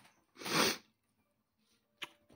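A single loud, close sneeze in a quiet room, followed by a faint sniff and a short breathy sound.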